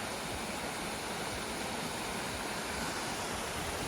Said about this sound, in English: Right there's the waterfall.